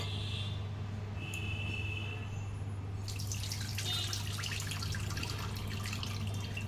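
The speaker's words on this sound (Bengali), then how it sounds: "এইবারে জলটা লাস্ট এবার ধুয়ে জলটা ফেলে দেবো" Rinse water from washing flour is poured out in the kitchen, a steady running splash that grows brighter and fuller partway through, over a constant low hum, with no talk.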